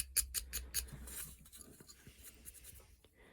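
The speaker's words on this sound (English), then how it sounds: "I am taking the wood out from the inside down to that stop cut" A carving knife shaves wood by hand, pulling out material down to a stop cut on a carved wizard face, giving quiet close scraping and slicing strokes in quick irregular bursts.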